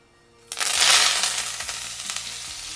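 Washed and dried curry leaves dropped into hot oil: after a quiet moment, a sudden loud burst of crackling sizzle that stays bright and fizzy and gradually eases, with a couple of stirring clicks.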